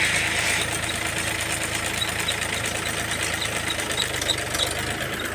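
A tractor engine running a crop spray pump in a field, a loud, steady mechanical drone with a rough knocking vibration that holds constant throughout, with no talk.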